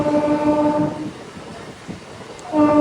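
A MEMU train, number 12767, runs near Anakapalli station between Kakinada and Visakhapatnam, its horn sounding a sustained tone at the start and again at the end, with rumbling wheels and carriage noise in between.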